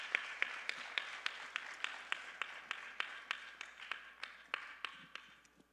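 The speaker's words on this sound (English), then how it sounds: "Let's give Shri Kadappa Raghavendran a huge round of applause" Scattered audience clapping at a Bharatanatyam dance debut, honoring a flute player. Individual claps land at a steady, fairly even pace, crisp and close, with a thin crowd behind them and no voices.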